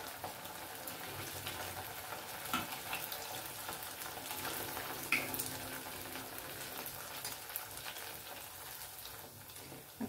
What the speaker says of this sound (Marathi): आणि फास्ट गॅसवर नाही तळायचे, हे जरा मंद गॅस करायचा आपल्याला